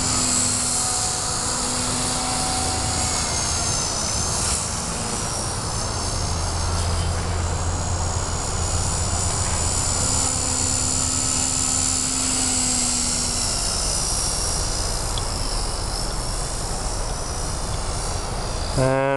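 Small V120D02S-Pro RC helicopter flying 3D rolls outdoors, its motor and rotor giving a steady high-pitched whine and buzz that rises and falls slightly, with a faint insect-like drone throughout and no talking.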